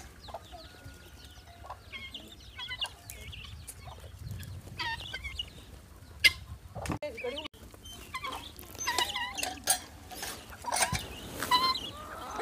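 White guinea fowl call at a breeding farm, with repeated clucking and chattering bursts scattered through the clip, some near and some farther off, over low background noise.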